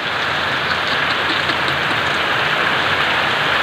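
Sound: heavy rain with strong wind

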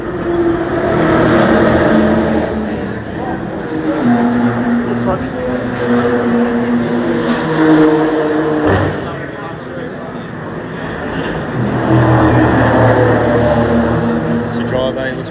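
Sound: race car driving in pit lane

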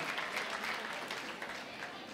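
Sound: audience applause

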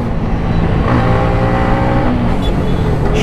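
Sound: motorcycle revving to the redline

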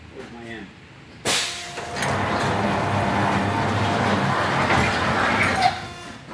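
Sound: thermoformer oven door being raised

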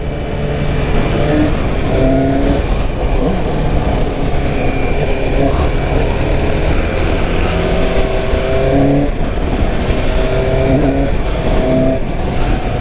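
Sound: Suzuki GSX-S750 motorcycle accelerating during test ride

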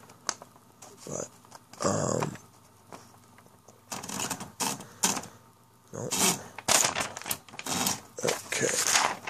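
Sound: typing on a Royal Apollo 10 electric typewriter

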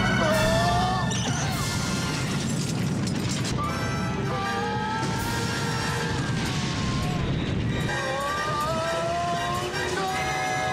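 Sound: explosions going off in The Naked Gun film scene

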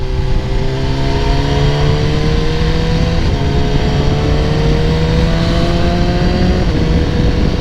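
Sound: BMW S1000R motorcycle accelerating in fifth gear

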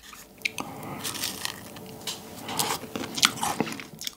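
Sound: biting into a large meringue cookie

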